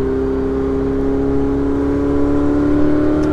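A Ferrari 488 Spider's turbocharged engine pulls under acceleration on a mountain drive, a steady, loud droning tone with a constant low rumble heard from inside the car, with no talk.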